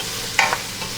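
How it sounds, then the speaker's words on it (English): Softening vegetables with fennel seed get stirred in a pan over a soft sizzle, with one short scrape of the utensil, close and without talk. "stir them together to make the vegetables to be soft"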